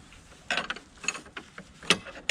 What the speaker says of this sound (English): here is the wrench